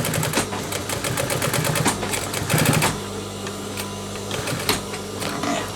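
A sewing machine topstitching the waistband of a pair of jeans, running in fast continuous rattling bursts that ease to a lower steady hum partway through, close up with no speech.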